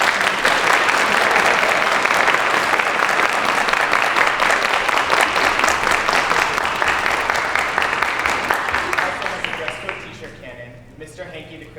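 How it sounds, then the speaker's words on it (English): A large crowd at a high school senior night show claps and applauds loudly in a sustained roar for about ten seconds before fading, with a voice speaking faintly near the end. "Everybody clap your hands"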